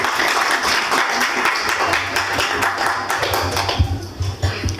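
A crowd at a ghazal and poetry gathering claps steadily to welcome poet Ramesh Muskan. The applause is loud and continuous, with sharp individual claps standing out near the end.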